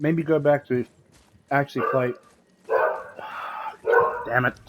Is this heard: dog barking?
yes